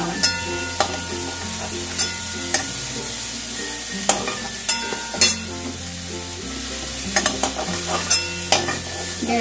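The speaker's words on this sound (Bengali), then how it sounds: "ফুলকপিটা কড়াইতে দিয়ে আমি 5 মিনিটের মতো ভালো করে একটু ভেজে নিলাম।" Cauliflower fries in a wok with a steady sizzle and a background hum, while a spatula repeatedly scrapes and taps the metal in sharp, irregular strokes.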